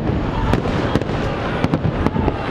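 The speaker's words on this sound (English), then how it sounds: "Unbelievable, the size of the fireworks, I love it." Large fireworks at a Disney resort, a dense rolling rumble of bursts with sharp cracks and booms popping out every half second or so, loud and continuous, with no clear speech.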